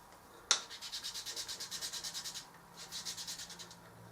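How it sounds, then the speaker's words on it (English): Two flattened scales are rubbed hard against each other after a sharp initial click, making fast rhythmic scratchy strokes that pause briefly and then resume, close and fairly quiet. "You can rub them together really hard"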